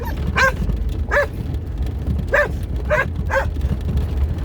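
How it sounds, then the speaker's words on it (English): A dog barks in a short series of five sharp, fairly close barks with slight yelping tones, spaced unevenly over a few seconds against a low rumbling background. "my dog Dexter does not like to start barking"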